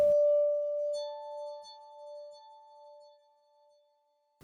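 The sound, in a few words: synth pad from FL Studio's stock Sakura plugin, Lay Pad FG preset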